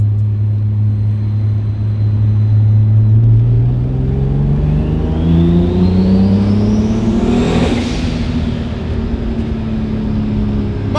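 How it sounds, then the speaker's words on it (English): A Toyota Supra engine rises loud and close with climbing revs, peaks as the car whooshes past, then falls away with a lower drone, and nobody speaks. "My God, I love the sound of this car"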